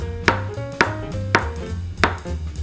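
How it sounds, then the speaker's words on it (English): A knife rough-chops a peeled banana into a few pieces on a board, four sharp, evenly spaced chops ringing out close and clear with no talking. "I'm just gonna rough chop"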